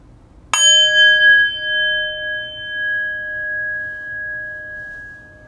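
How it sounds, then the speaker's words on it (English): A single meditation bell is struck once, its clear bright tone ringing out and decaying slowly into a long sustained hum in an otherwise quiet room. "we'll begin with the ringing of the bell"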